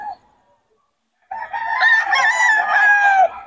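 Lemon sweater bull stag gamecock from a farm, one long loud crow up close rising after a short clucking note and a moment of silence, then cutting off.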